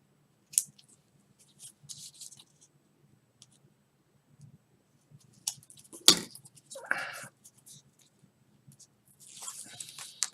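Scissors cutting paper for an open record box album, heard as a few separate close snips and short slicing strokes with quiet pauses between them and some handling clicks.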